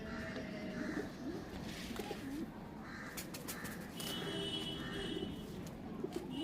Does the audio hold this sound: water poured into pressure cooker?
no